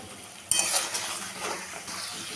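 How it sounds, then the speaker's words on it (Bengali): A spice mix of cumin, coriander and chili powder stirred into fried potatoes in a pan, a sudden sizzle with utensil clinks and scraping as the mix is worked, close and without speech. "আলুটা ভেজে নিলাম, এখন তৈরি করে রাখা মশলাটা দিয়ে দিলাম। মশলাটাকে এখন একটু কষিয়ে নেব।"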